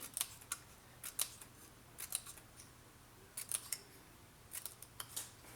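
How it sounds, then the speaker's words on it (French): Scissors snipping small fringe cuts into a paper strip for a scrapbooking project, quick clusters of sharp close clicks separated by short pauses over a faint quiet background. "faites des petites coupes comme ceci. Vous voyez, petite frange."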